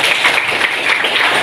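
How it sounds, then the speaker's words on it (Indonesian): A class claps together during a figure-drawing lesson, a dense, steady patter of many hands that holds at an even level throughout with no talk over it. "tepuk tangan."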